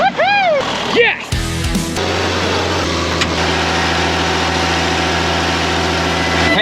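A farm machine engine on a cotton farm cranks and catches after some brief clunks and whirring, then settles into a steady, loud, close rumbling run.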